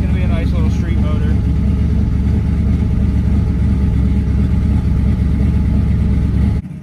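A newly built, never-run street engine runs at a steady idle while its hydraulic lifters pump up, a loud continuous low rumble with a faint voice early on and the sound dropping right at the end.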